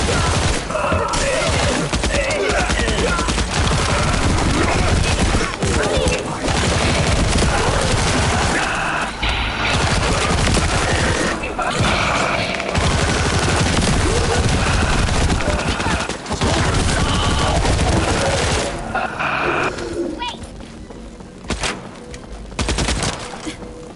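Dense, continuous video game gunfire, loud bursts and rapid automatic fire overlapping almost without pause, with a few brief gaps and a voice talking now and then.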